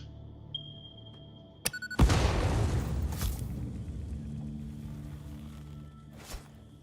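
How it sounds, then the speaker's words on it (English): In the game Satisfactory, a few quick ticking clicks give way to a loud, deep explosion blasting trees apart, its rumble fading over several seconds, followed by a softer thud later. "let's blow up the trees around it so we see what we're working with"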